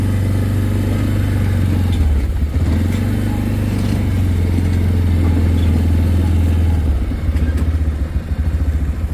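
A vehicle engine drives steadily through a large pasture garden, a loud, close, continuous low drone with clattering rattles over about nine seconds, the pitch dipping briefly before settling back.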